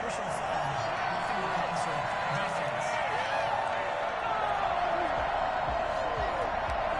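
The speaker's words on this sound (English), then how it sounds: "this crowd does not like that call" Crowd noise fills a football stadium in the Madden 21 video game, Lions at Steelers, a sustained dense roar of reaction to a penalty call, steady and loud throughout.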